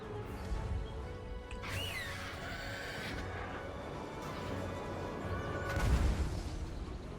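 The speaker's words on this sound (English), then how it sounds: "our Great Eagle's got more hell cannon blasts on his tail" Hell cannon blasts in the fantasy battle game Total War: Warhammer 2, heavy booming impacts and crashes rising out of dense battle noise, with one loud blast near the end.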